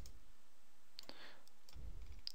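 Computer mouse clicks while operating Pro100 CNC nesting software, with a few crisp, isolated clicks heard close over a steady low hum, spaced irregularly, no talking.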